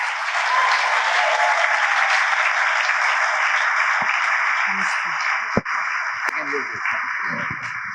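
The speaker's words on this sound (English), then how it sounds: "Let's welcome him with a huge round of applause" A college auditorium audience in Hyderabad gives a loud, sustained round of applause welcoming a speaker, steady and even throughout, ending with a thump and faint voices as it dies down.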